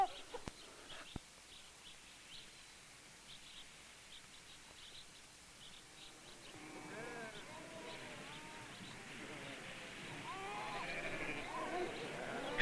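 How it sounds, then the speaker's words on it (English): Sheep grazing on open Navajo rangeland, starting quiet and sparse, then a flock of bleats rising from about the middle and continuing in overlapping calls, moderately near, with faint bird chirps in the background. "Sheep are grazed by the Navajo on land largely unchanged in centuries."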